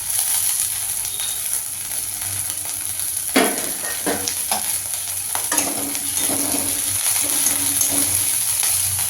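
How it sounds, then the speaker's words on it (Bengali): Chopped green chilies frying in a pan, a steady soft sizzle throughout with a few clinks and scrapes of a stirring utensil, no talk. "এইটাকেও হালকা একটু ভাজতে হবে কাঁচা লঙ্কা কুচি"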